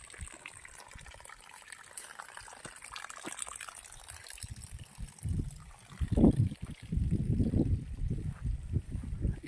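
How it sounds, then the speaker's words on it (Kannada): Irrigation water flows to each coconut tree on a farm near Mysuru, a soft steady gurgling and splashing that grows louder and more bubbly in the second half, close by, with no talk. "ಈ ರೀತಿಯಾಗಿ ಪ್ರತಿಯೊಂದು ಗಿಡಕ್ಕೆ ಈ ಥರ ನೀರು ಹೋಗುತ್ತೆ ಇಂಡಿವಿಜುವಲ್ ಆಗಿ"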